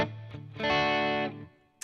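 A brief clean electric guitar tone from a Headrush rig, a few plucked notes swelling into one sustained chord that fades out, close and alone.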